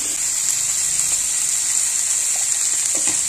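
Ridge gourd peel frying with salt and turmeric gives a steady, close, bright sizzle that holds evenly throughout, with a few soft stirring touches near the end and no talk.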